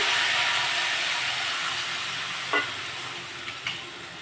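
Tamarind water hisses and sizzles in a hot pan of vathakuzhambu, a loud steam burst at first that gradually settles, with a couple of faint clinks.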